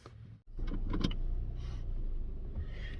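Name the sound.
car being driven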